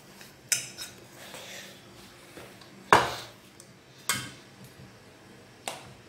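A pot being lifted off the fire, heard as a few sharp metallic clanks and knocks spaced apart over a quiet background, close and fairly loud.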